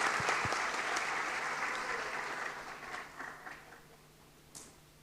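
A church congregation at a Christmas thanksgiving service in Saigon gives a big round of applause, a full, sustained wash of many hands clapping that gradually tapers off.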